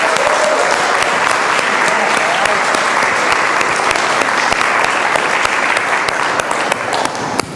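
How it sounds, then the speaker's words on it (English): Applause from an audience in a church, dense sustained clapping from many hands at full strength throughout and easing slightly toward the end, with some voices mixed in. "let's give them one more round of applause and just give them our appreciation"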